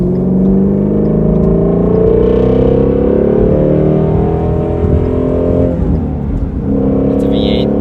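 A Ford Mustang V8 engine rumbles and climbs in pitch as it accelerates while driving, a loud, steady, deep tone heard from close by, with a gear change and a brief dip near the end.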